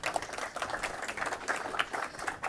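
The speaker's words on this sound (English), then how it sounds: "Small applause for our guests" Modest applause for guests at a cloud technology conference session in Brussels, a scattered patter of claps from a small audience, steady and moderately quiet throughout.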